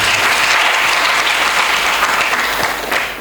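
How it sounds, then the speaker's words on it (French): Loud, dense applause from an audience at a high-school debate contest, a continuous wash of clapping that tapers slightly near the end. "Le lycée Lamine Gueye, sous vos applaudissements,"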